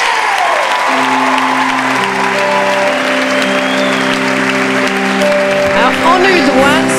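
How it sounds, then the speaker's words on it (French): A show audience applauds loudly and steadily, with crowd noise blending with sustained musical tones and a voice rising near the end. "Mesdames, messieurs, je vous demande de les applaudir très, très fort."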